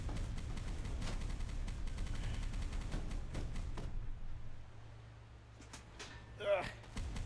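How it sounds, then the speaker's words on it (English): Mortar fire in a naval landing battle from the Rising Sun campaign, heard as a dense barrage of rapid thuds and cracks for several seconds, then thinning out into sparser distant bangs and a few sharp bursts near the end. "Loads of mortar fire."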